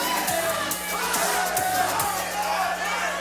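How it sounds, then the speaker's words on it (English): Fight crowd at a USFFC 22 Metal and Mayhem MMA bout keeps up a steady, loud crowd roar with rhythmic chanting pulses and scattered whoops throughout. "The crowd continuing to chant."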